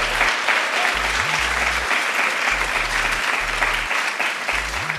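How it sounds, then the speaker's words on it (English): An audience at a White House conference on advancing women's health gives sustained, dense applause, with many hands clapping loudly and evenly throughout under a low intermittent hum. "Give yourself a round of applause."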